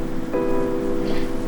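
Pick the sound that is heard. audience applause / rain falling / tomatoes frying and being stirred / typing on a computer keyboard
rain falling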